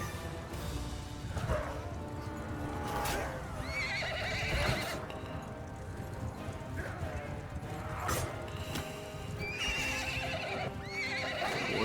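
Horses neigh several times amid hoofbeats and clattering battle noise in the video game Mount & Blade 2: Bannerlord, with faint voices in the background.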